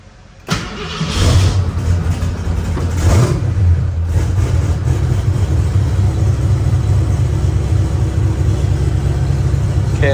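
Turbo Foxbody Mustang engine starts with a sharp catch, blips up in a couple of quick revs, then settles into a loud steady idle, close and continuous with no talk.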